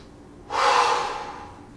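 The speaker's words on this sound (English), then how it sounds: "And I'm breathing." A single heavy, breathy exhale during a seated hip rotation stretch, starting abruptly and trailing off over about a second, close and alone.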